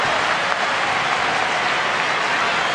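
A large crowd of nearly 29,000 at a Tigers–Orioles baseball game in Detroit roars and applauds near the final out, a broad, steady wash of cheering and clapping.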